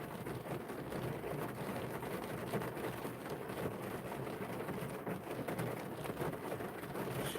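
Steady rain falls outdoors as a continuous, even hiss of drops on surfaces, fairly faint and unbroken, with no voices over it.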